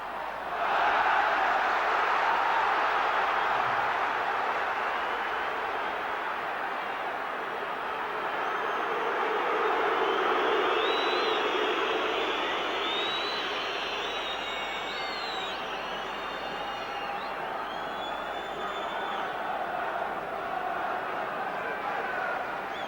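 A football stadium crowd at Sheffield Wednesday against Tottenham Hotspur roars steadily, a dense, loud wash of chanting and cheering that swells and eases, with faint whistles rising above it.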